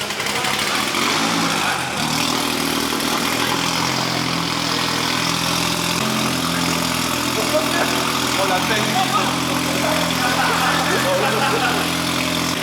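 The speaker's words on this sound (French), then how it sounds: "Le ralenti, il est à 2002." A car engine idles at a steady rumble for the whole stretch, fairly close, with a slight change in tone partway through and a busy, noisy background.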